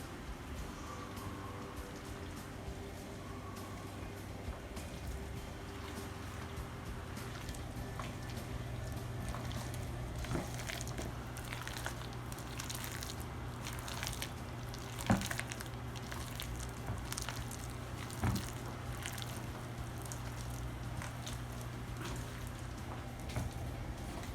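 Fresh blueberries stirred into muffin batter, giving a soft, steady wet squishing and sloshing that runs close and even throughout, with a faint low hum underneath.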